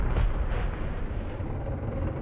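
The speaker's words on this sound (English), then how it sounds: "That thud is the sound of the passenger's head hitting the driver." A dense, muffled low rumble of impact noise from an unbelted rear-seat passenger's head hitting the driver's seat continues steadily for a couple of seconds, with no distinct separate thud standing out.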